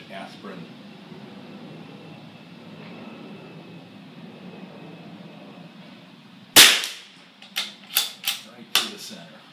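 A Vudoo V22 Ridgeback rifle fires at small aspirin targets, one sharp loud shot followed by four more spaced cracks in quick succession after a quiet stretch of low background noise.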